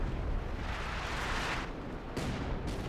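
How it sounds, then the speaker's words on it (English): Artillery barrage in Company of Heroes 2, a continuous roar of heavy explosions rumbling without pause, with a couple of sharper blasts punching through near the end. "Artillery barrage trying to push back the AT guns"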